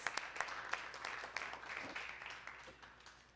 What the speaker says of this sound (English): Can we give another round of applause for all of our elementary school principals?